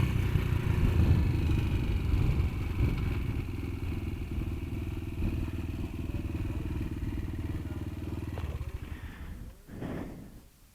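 A highly modified Kayo MR125 dirt bike ridden around a kart track, its engine droning loud and steady up close for several seconds before the revs drop and the sound thins out near the end.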